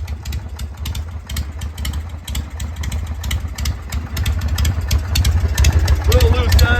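A 1981 Harley-Davidson FX Shovelhead runs after new exhaust work, a loud, rough, throbbing idle that swells a little toward the end, close to the recorder.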